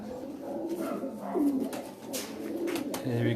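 Domestic pigeons of a home-bred breeder line coo on a rooftop loft in Mianwali, with soft repeated low coos close by and some faint background activity.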